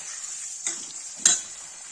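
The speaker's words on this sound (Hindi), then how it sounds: "गाइस देखिए लौकी फ्राई होगी" Chopped bottle gourd frying in a pan for Kashmiri-style lauki yakhni gives a steady, close sizzle, with two sharp utensil clinks against the pan partway through.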